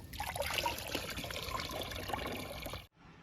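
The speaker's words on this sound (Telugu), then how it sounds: "సపోటా మొక్క నుంచి స్టార్ట్ చేద్దామండి లిక్విడ్ ఇవ్వడం" Protein-rich liquid fertiliser pours onto plants in a steady, close trickle of liquid that runs for nearly three seconds and then stops abruptly, leaving quiet outdoor ambience.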